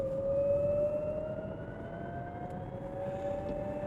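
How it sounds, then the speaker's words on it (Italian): A Lexus UX electric car driving in sport mode gives off a steady, rising synthetic whine from its pedestrian warning system, a clear sustained tone gliding slowly upward over a soft rumble of road noise, with no combustion engine sound. "non c'è un rombo di un motore termico a farmi percepire la velocità della vettura,"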